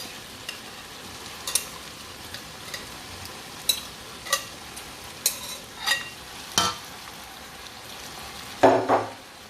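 Okra, partly still frozen, goes into a pot of Nigerian okra soup and gets stirred, giving a run of scraping and clinking strokes over a low sizzle, with a louder clatter near the end.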